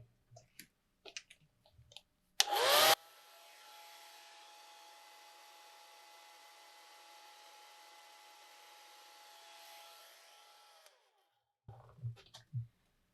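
A hair dryer blows on a watercolor bunny painting for about eight seconds, a steady close whir with a motor whine, preceded by brief clicks and a loud burst and followed by light tapping.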